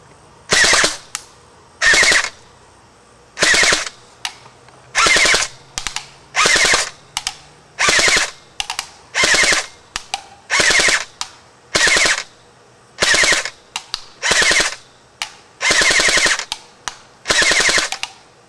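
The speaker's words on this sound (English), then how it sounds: "We're going to fire just a few bursts." A JG AK47 Spetsnaz airsoft BB gun fires repeated short full-auto bursts, each a fast mechanical rattle lasting about a second, separated by brief silences, loud and close with no talking.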